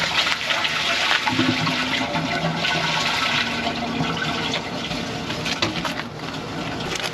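A loud, continuous rush of water is flushed through an RV black tank during a drain-and-rinse teardown, close and unbroken for several seconds with no voices.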